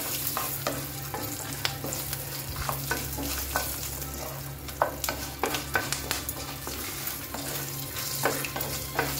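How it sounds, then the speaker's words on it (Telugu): Lentils and green chillies frying in hot oil, a soft continuous sizzle broken by scattered crackles and spoon scrapes as they are stirred in the pan, fairly quiet and close. "పప్పులు కొంచెం బాగా ఫ్రై అవ్వాలండి. పచ్చిమిర్చి ఇప్పుడే వేసాం కదా, అది కూడా కొంచెం ఫ్రై అయిపోయినాక మనం తీసి ప్లేట్లో పెట్టుకుందాం."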